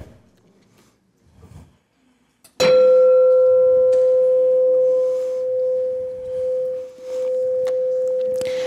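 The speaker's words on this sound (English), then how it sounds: "we're going to continue with a call to worship with our chime" A chime rung as a call to worship at a Unity Kitchener service strikes loudly after a moment of quiet and holds a clear, sustained ringing tone that slowly fades and wavers over several seconds.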